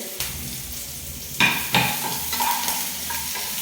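Chunks of elephant foot yam frying in hot oil with asafoetida and curry leaves, a steady sizzle broken by a few sharp metallic scrapes of a spoon stirring against the pan.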